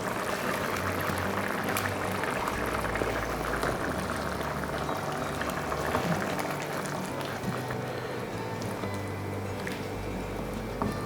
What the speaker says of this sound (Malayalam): നമുക്കിതിലേക്ക് വറുത്തരപ്പൊക്കെ ചേർത്ത് കൊടുക്കാം